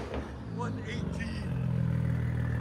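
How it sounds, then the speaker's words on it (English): A straight-piped Audi S4 V6 turbo rally car runs loud and close, its deep engine drone building steadily toward the end, with voices talking over it. "Hear the turbo spool."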